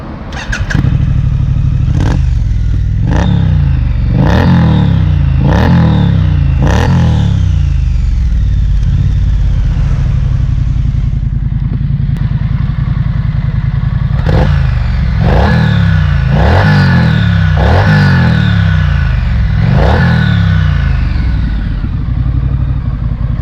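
A 2020 Triumph Street Scrambler twin motorcycle engine blips its throttle repeatedly, loud and close, with a run of sharp rising revs, then a steady idle, then another cluster of revs, and no talking throughout.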